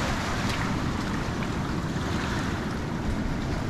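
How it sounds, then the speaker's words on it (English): Ocean waves wash steadily onto a mangrove-lined shore on Santa Cruz Island in the Galapagos. The rush is constant and broadband, mixed with wind buffeting the microphone, and no voices are heard. "The waves coming in."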